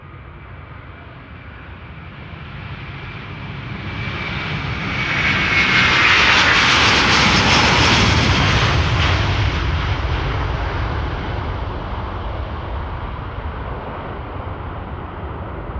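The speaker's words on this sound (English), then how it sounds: "Delta Airlines flight 133 to Detroit, Michigan. A330-300" Delta Air Lines Airbus A330-300, 22 years old, taking off from Amsterdam Schiphol on a sunny morning, its jet roar swelling to a loud peak mid-clip, then easing into a steady, sustained rumble as it climbs away.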